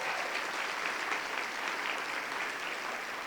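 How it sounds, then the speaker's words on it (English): Dense, steady applause from a large convention audience, a continuous wash of many hands clapping that holds at an even level throughout, with no voices standing out. "Can we give a round of applause to all the food servers who have been helping us?"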